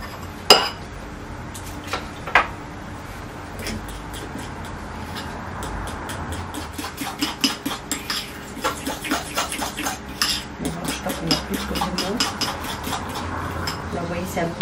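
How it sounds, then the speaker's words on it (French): A fork whisks and clinks against a bowl, starting with a couple of isolated taps and then settling into a quick, steady run of rhythmic clinks over faint background hiss. "Une fourchette, ça va être mieux pour mélanger."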